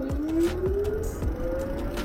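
Full-throttle run on an EVX Spades full-suspension electric bike with a Bafang motor of about 1100 W peak, ridden without pedalling: a steady, rising electric whine climbs in pitch over a couple of seconds, close and moderately loud.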